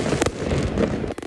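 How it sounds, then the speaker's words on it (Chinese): Fireworks burst over Anping harbor in Tainan at night, two sharp loud booms standing out against a continuous crackling, rumbling background. "灿烂烟火点亮夜空"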